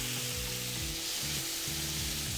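Fire roasted tomatoes sizzling in a hot pan with cumin: a steady, dense frying hiss with low scraping stir sounds beneath, continuous and close.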